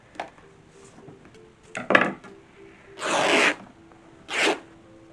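Fabric for 19th-century bedding is torn by hand across its width: two loud, harsh ripping bursts about a second each, close up, following softer handling rustles, with no talk.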